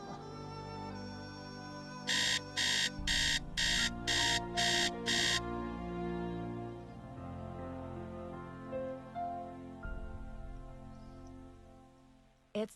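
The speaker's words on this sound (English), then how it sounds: "Let's set the alarm" An alarm clock in the Nancy Drew haunted-mansion video game rings in seven quick, evenly spaced electronic beeps over a low, continuous ambient music bed, which carries on alone after the ringing stops.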